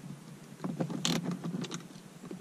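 Ratchet or wrench work on a 10mm bolt under a Toyota Tacoma tweeter mount, heard as a string of close, quick metallic clicks and small taps with a brief brighter rasp in the middle, no talking.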